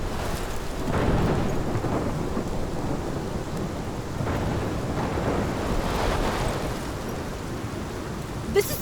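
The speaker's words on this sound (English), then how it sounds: "This is my storm." A thunderstorm in the video game Life is Strange, with steady heavy rain and low rolling thunder building in long swells, loud and continuous throughout with no talking.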